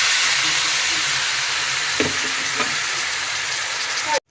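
Banana flower dropped into hot oil that has fully separated from the spices, giving a steady, close frying sizzle with a couple of brief stirring clatters before it cuts off.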